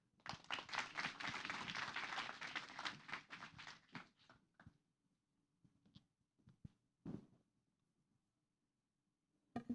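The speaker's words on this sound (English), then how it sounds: "Please give our applause for His Excellency Ambassador Sung Kim." Applause from a gathering at a U.S. embassy Ramadan event greeting Ambassador Sung Kim, brisk clapping for a few seconds that quickly dies away into scattered taps and light movement sounds.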